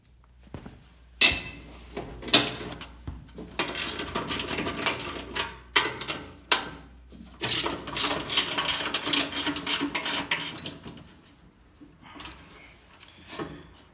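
Ratcheting socket wrench loosening the nut on a carriage bolt holding a skid shoe on an Ariens snowthrower, a run of close, dry mechanical clicks and scrapes in bursts, with short pauses and no talking.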